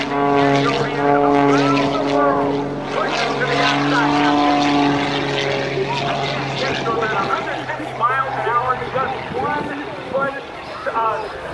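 A stunt plane at the 2013 Vectren Dayton Airshow roars low over the field, its engine tone droning loudly and shifting in pitch as it passes, while an announcer talks over it.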